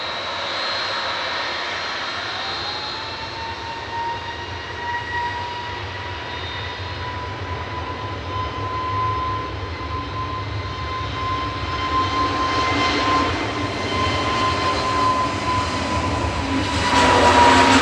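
A Jet2 passenger jet departs Manchester Airport, its engines giving a sustained loud roar with a rising tonal whine that holds steady and then grows louder toward the end.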